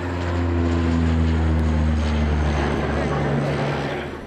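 Firefighting airplanes and helicopters fly over a wildfire, producing a loud, steady low propeller and engine drone with harmonic throb and rushing noise that swells and then fades toward the end.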